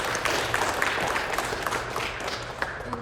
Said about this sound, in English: Please, let's give another round of applause to Ryan and to his speech.